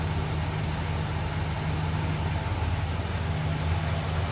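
A 1966 Cadillac Deville convertible with a 429 engine idles smoothly and steadily, a low even rumble with constant hiss and no rise or fall in revs, heard close with the hood open.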